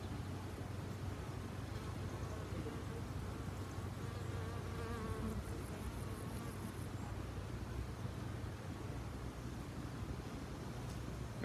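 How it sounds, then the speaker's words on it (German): Insects buzz near a beehive, with a steady, faint, continuous drone that lasts throughout and carries no talk. "Wespen sind wirklich furchtbar gerade im Moment mal wieder."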